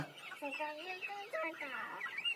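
Small young chickens cluck close by, a quick run of short, rising and falling calls overlapping one another.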